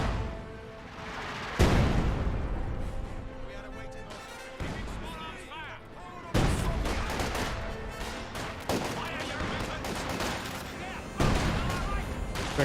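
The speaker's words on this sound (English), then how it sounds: "This gun barrage will be dodged." Artillery and gun barrage from the strategy game Company of Heroes 2, with heavy booming impacts landing in several loud waves and rattling gunfire between them, while a commentator talks over the action.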